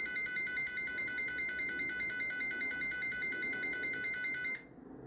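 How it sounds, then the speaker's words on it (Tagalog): A loud 80 dB intrusion alarm from a BABA digital door lock, indoors, repeats a rapid, pulsing beep pattern without pause for several seconds, then cuts off abruptly, leaving only quiet room tone. "Ang alarm sound niya dito po sa loob ng bahay."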